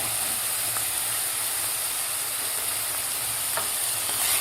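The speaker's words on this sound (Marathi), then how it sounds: "टोमॅटो आणि मटार आपल्याला कांद्याबरोबर व्यवस्थित 1 मिनिटभर परतून घ्यायचे आहेत" Tomatoes and peas sautéing with onions in a hot pan, a steady loud hiss and sizzle filling the whole stretch, close by with a couple of faint utensil taps.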